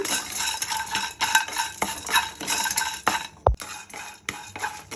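Spices for garam masala being dry-roasted and stirred in a pan, with steady scraping and clinking of a spoon against metal and a sharp knock near the middle, close and fairly loud.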